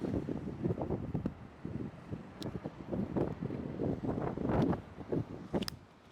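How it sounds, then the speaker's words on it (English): Gusty wind buffets a microphone outdoors on a foggy, cloudy day, a steady low rumble that swells and surges in irregular bursts, loudest near the end, with no clear voices. "It's probably windy as hell right now"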